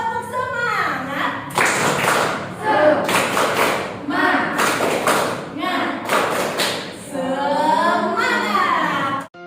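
A class of children performs a rhythmic clapping cheer, bursts of group claps and thumps in a patterned beat, with chanted voices before, between and after the clapping.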